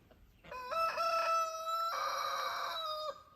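A young rooster, almost a year old, lets out one long, loud crow close by, a rising start followed by a sustained, strained note that drops away at the end.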